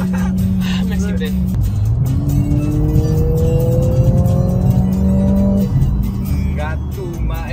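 Engine of a car in a street drag race, Mercedes-AMG A45 against Corvette C8, revs loudly and rises steadily in pitch for several seconds before dropping back, with people talking over it throughout.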